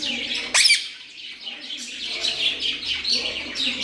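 A peacock lets out one sharp, loud call near the start, followed by softer chirpy bird sounds that carry on in the background.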